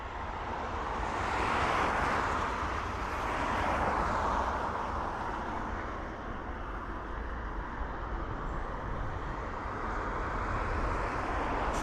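An Aer Lingus Airbus A320-200 airliner at Dublin Airport produces a steady broadband jet roar, swelling and easing slightly as it passes at a moderate distance, with no talk.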